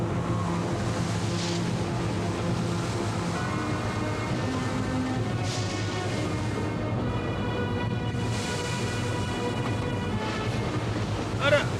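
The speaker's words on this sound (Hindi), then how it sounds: "अरे बड़ी तेज हवा चल रही है।" Strong wind roars steadily on a stormy night, a dense continuous rush with gusty surges and faint tonal hints of voices beneath.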